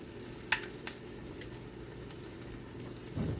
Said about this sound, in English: And I'm just going to break 2 eggs on top of them. And I'm just going to fry them up.